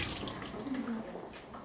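A hotel room tap runs, giving a soft, steady hiss of flowing water that stays faint and close for under two seconds, with no voices over it.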